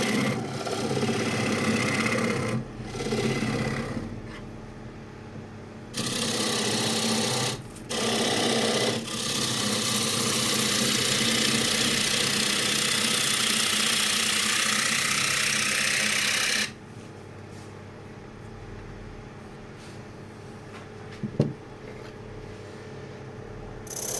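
Wood lathe turning a chestnut bowl blank, with a steady motor whir and a rough cutting rasp that runs for several seconds, stops briefly, resumes, then drops to a quieter spinning hum.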